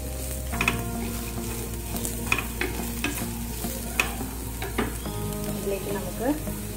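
Spring onion is stirred through a hot pan for bread Manchurian, with spatula scrapes and taps over a low sizzle and a faint steady hum, heard close and fairly quiet.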